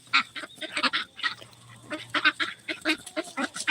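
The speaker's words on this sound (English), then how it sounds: "Those were my two first ducks." Ducks on a small farm quack loudly and repeatedly close by, in a rapid series of nasal honking calls with brief pauses between them.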